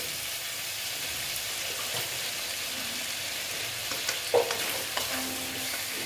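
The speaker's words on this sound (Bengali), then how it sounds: "তিনটা একটু দিয়ে দিলাম দিয়ে কষিয়ে নিচ্ছি" Fried potato and pumpkin pieces sizzle as they are sautéed in a pan, a steady frying hiss broken by a few spoon scrapes and light knocks, close-up and without talk.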